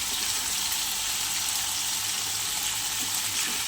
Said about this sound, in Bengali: এখানে জিরে ফোড়ন দিয়ে দিয়েছি